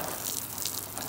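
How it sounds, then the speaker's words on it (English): Water runs from a hose while garden plants are watered, a soft steady splashing hiss close by, short and continuous. "Thought I'd water plants"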